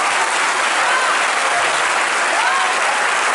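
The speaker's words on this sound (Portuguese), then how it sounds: "você pode aplaudir se você crê nisso" A church congregation applauding, a loud, dense and sustained wall of clapping from a large crowd with no break.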